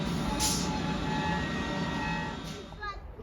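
An Avanti West Coast train pulls into Rugeley Trent Valley station, a steady rumbling rolling roar that fades toward the end, with faint voices in the background.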